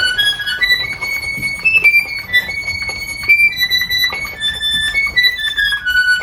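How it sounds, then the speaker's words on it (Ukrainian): Wheezy reed tones of a very old harmonica playing a slowly shifting melody, held notes with bright overtones, close and fairly loud. "Оксанка, гармоніка, послухайте, як звучить"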